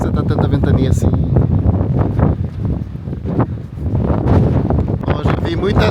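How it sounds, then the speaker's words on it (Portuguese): Strong gusting wind on the Oregon coast at Newport, buffeting the microphone in loud, ragged bursts with a roaring rush, while someone speaks over it. "Meu Deus, por que você tá tanta ventania assim?"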